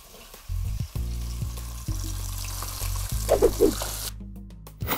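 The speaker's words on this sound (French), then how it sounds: "on va ajouter notre beau jarret de bœuf. Et on va laisser dorer juste 1 minute en retournant à chaque moment" Beef shank browns in a hot pan, a steady close sizzle with a low rumbling hum underneath, brief clatters as the meat is turned, and a sharper hiss near the end.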